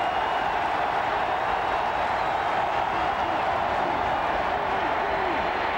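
Stadium crowd at a Florida vs. South Carolina college football game roars in a dense, continuous wash of cheering and noise, loud and steady throughout, under a commentator talking.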